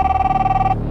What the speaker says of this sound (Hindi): एक फ़ोन कॉल आती है